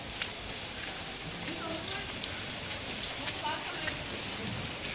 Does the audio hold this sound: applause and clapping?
no